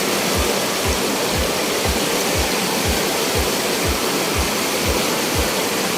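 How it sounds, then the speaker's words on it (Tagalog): A waterfall at a riverside camp in Nueva Ecija roars as steady, loud, broadband rushing water, close by and alone, with a faint low rhythmic thumping running beneath the continuous wash. "May isa pang falls."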